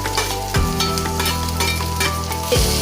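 Dried chillies and onions sizzling in a pan as they are stirred, a continuous close fry with scraping strokes and a low hum beneath.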